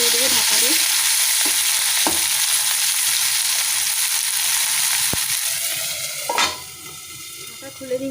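Tomatoes and onions frying in a pan for a Bengali rohu posto dish, a loud steady sizzle close by with occasional sharp spatula scrapes and knocks against the pan.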